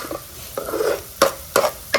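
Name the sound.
tomatoes frying for masala bhurji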